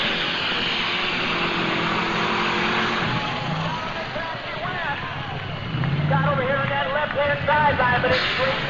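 A 2,500-horsepower Superstock pulling tractor with a 3208 Cat engine, an AGCO White 6195 at a 1995 NTPA pull in Fort Recovery, roars loud and steady through the run, with an announcer talking over it and the crowd and engine noise surging later.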